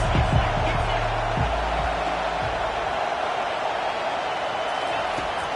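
A college football stadium crowd keeps up a steady, dense roar throughout, with a commentator talking over it.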